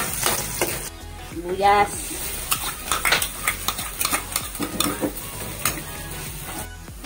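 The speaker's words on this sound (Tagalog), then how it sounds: "Igigisa muna natin yung bawang." Garlic sautés in a hot pan for lumpiang puso ng saging, a bright close sizzle with a spoon scraping and stirring against the metal, while a voice briefly speaks.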